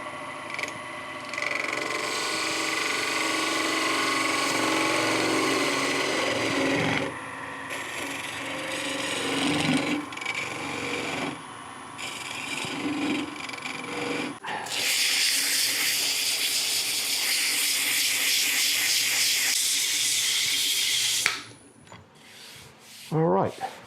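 A wooden tool handle spins on a lathe while a skew chisel cuts it, giving a continuous close hiss and scraping that rises into a brighter, harsher shaving toward the end before stopping.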